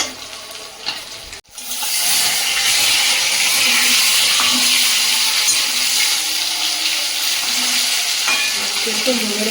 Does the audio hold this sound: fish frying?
yes